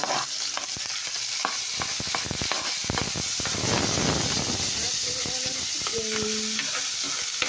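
Mussels sautéing in a pan with onion, sizzling and hissing under repeated scraping stirs and clatter, swelling into a louder burst of steam midway, with voices speaking briefly near the end.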